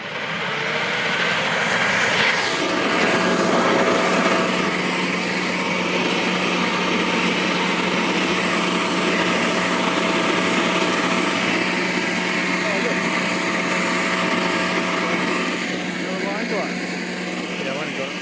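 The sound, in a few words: Ozito 36V cordless vacuum blower running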